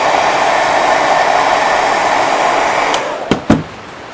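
A heat tool blows a steady, loud whooshing roar while drying distress ink on a paper craft tag. It switches off near the end, followed by two sharp clicks or knocks.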